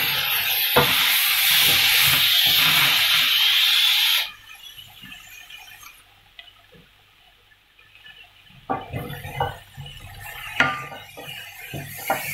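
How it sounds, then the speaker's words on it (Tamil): Drumstick pieces are mixed into South Indian sambar in a pan. A loud, steady sizzle gives way to a quiet stretch, followed by scattered scraping and clinking of a spoon against the pan. "இப்போ முருங்கைக்காய் ஆட் பண்ணிவிட்டு அதையும் வந்து நல்லா மிக்ஸ் பண்ணிக்கோங்க."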